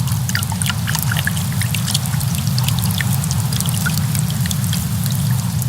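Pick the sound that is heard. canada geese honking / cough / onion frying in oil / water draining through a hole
water draining through a hole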